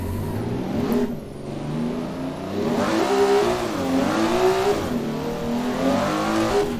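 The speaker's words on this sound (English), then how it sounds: "first gear, it's not easy not to bounce on the rev limiter because it's like so short the gear." An 800HP Toyota Supra revving hard in a short first gear at Ebisu North, the engine note climbing and dipping repeatedly as it bounces near the rev limiter, loud and close.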